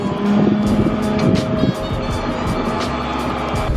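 A tow truck carries a broken-down Honda S2000, its engine and road rumble steady and close from start to finish, with a low droning hum and a faint voice mixed in.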